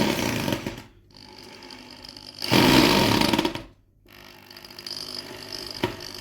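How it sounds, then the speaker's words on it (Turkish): A power drill drives screws while assembling metal legs onto a nightstand, whirring in bursts: a long run, a brief pause, then a louder stretch of driving, then another sustained run. "Önce vidayı sabitliyoruz. Sonrasında matkapla devam ediyoruz."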